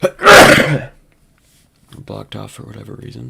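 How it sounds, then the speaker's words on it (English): A single loud sneeze bursts out close up at the start, followed by a short pause and then a person talking. "I feel a sneeze coming."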